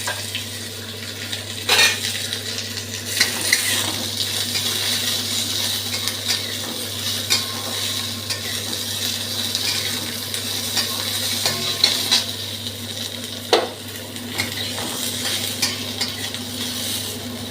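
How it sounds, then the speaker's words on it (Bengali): Flattened rice and dried red chilli are stirred and fried in a pan with a spatula, giving a steady soft sizzle with scattered scraping and clinking taps of utensil on metal, no voices. "দিয়ে না এটাকে একটু নাড়ানাড়ি করে একটু নরম মতন করে ভাজবো"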